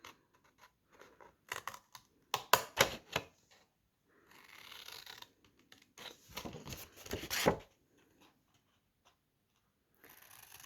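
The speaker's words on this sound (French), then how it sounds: "on prend la paire de ciseaux et on enlève les petits carrés." Scissors snip out small squares while making a candle box, giving a few sharp close cuts and crinkling paper sounds in irregular bursts, with quiet pauses between.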